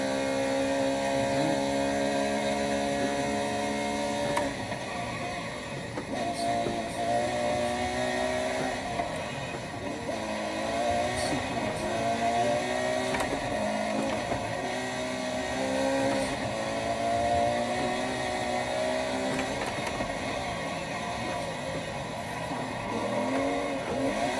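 Race car engine in the Forza video game, a sustained high revving drone with shifting pitch as gears change and the car accelerates, steady and loud throughout with no talking.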